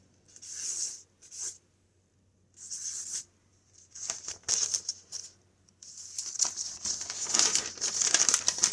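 Cheap paper handled up close in short rustling bursts, with pauses between them, then a longer stretch of continuous crinkling and scraping; no voices.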